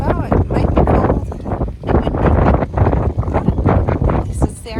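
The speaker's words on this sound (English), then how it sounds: "it's 40 degrees and windy here, and the wind is very cold" Cold wind gusting on Grimsey Island at the Arctic Circle in Iceland, roaring and buffeting the microphone continuously, with people talking under the rumble throughout.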